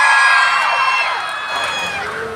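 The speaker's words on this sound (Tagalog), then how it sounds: "isang malakas na hiyawan naman dyan" A festival crowd at a provincial capitol event roars with cheering and shouting, a dense, loud wash of voices sustained for a couple of seconds.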